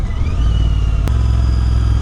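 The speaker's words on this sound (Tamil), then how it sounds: "ரம்பிள் நோட் கேட்கலாம்." Royal Enfield Interceptor 650 motorcycle engine rumbling loud and close, a steady deep throb with one brief blip midway, no voices.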